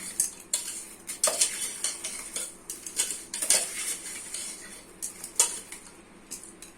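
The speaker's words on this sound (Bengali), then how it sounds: "ভালো করে মিশিয়ে নিতে হবে আমের সাথে" Raw mango pieces being stirred with sugar in a bowl, a spoon scraping and clinking against the dish in irregular strokes, close and fairly quiet, with no voices.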